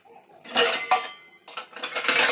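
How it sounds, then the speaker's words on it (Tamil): A metal lid clanks onto a clay pot of fish curry on the stove in a few sharp, close bursts of clattering metal, with a short pause between them. "இப்போ ஸ்டவ்வை நல்லா ஃபாஸ்ட்டாக வச்சு விட்டு மூடி வச்சுடுவோம்."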